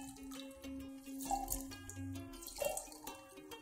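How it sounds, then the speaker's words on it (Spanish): Orange juice is poured into a container while making a fruit salad, a faint, brief trickle and splash of liquid with a few drips, quiet and close. "En un recipiente vaciamos el jugo de naranja"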